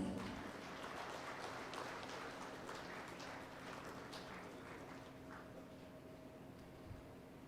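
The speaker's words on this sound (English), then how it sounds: "A huge round of applause, please." Audience at a chartered accountants' conference inaugural session applauding, a dense steady wash of clapping that fades slightly over several seconds, moderately quiet in a large hall.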